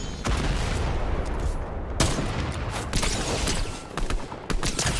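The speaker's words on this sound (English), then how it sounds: "Just shooting all kinds of rockets everywhere." Rapid gunfire and rocket blasts in the Fortnite video game, a dense, continuous barrage of loud shots and explosions with bursts of impacts throughout and no talk.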